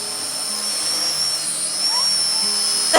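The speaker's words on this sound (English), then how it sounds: "my son is having way too much fun with our new drone" A small toy drone flies close by, its steady high-pitched whine buzzing continuously like a large bee, with no talking, and a brief sharp knock near the end.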